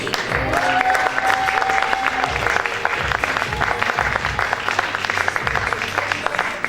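An audience at the Miss Aisne 2020 beauty pageant results ceremony applauds a candidate, a continuous wash of clapping across the hall with music and some voices running underneath.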